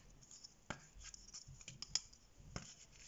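A pencil drawn along a ruler on paper to rule the line of an equals sign, giving a faint dry scratching stroke with a few soft taps, close and quiet with no talking.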